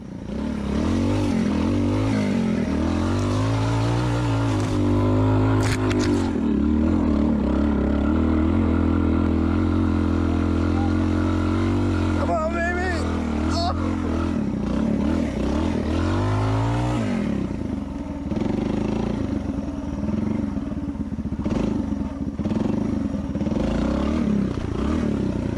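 Honda TLR200 Reflex trial motorcycle with a kick-started single engine, running steadily and loudly close by with a low throbbing drone and a few rises and dips in revs.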